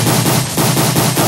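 Rapid-fire nail shots from a held attack in a Roblox game, a steady loud burst of repeated shots in a quick even rhythm, with no talking.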